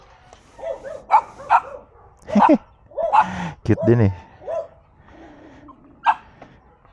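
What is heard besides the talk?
dogs barking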